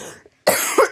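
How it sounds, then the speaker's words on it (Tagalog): A young child coughing at night after being sick, one short soft cough followed by a loud, harsh burst of two close coughs, heard near and alone. "Ayan, dahil sa ubo."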